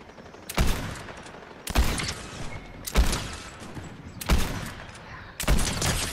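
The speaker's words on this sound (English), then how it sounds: "I got an exploding repeat rifle" Exploding repeat rifle fire in a shooter video game: five loud, sharp blasts spaced roughly a second apart, each with a brief crackling tail and no talk over them.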